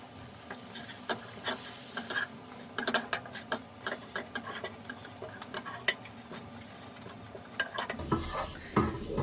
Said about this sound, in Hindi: इसमें आटा डाल के तो इसको भून लेते हैं।